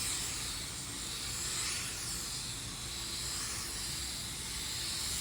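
A paint spray gun laying a drop coat of car paint onto a panel, a steady airy hiss held continuously at close range, with no talking.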